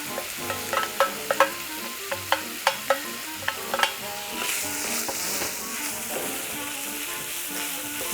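Ground beef from a butcher is stir-fried with pre-fried vegetables in a pan for jajangmyeon, a rhythmic run of close spatula scrapes and clinks over a constant loud sizzle that then settles into a steady hiss.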